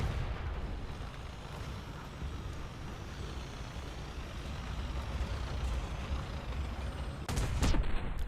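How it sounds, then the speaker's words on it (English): A grenade blast in the War Thunder game, a loud broadband burst of explosion near the end following a steady rumbling roar of battle and engine noise underneath. "The grenade effect is actually cash money."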